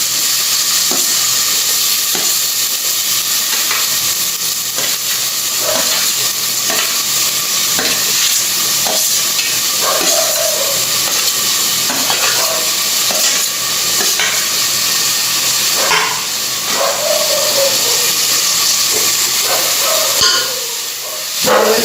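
Onion and tomatoes sauté in oil in a pan with a loud, steady sizzle, broken by repeated scrapes and clinks as they are stirred.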